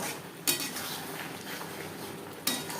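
A spoon stirs a roasted spice mix into green mango chutney in a pan on the stove, with two sharp metallic clinks against the pan over a soft, steady scraping and low hiss.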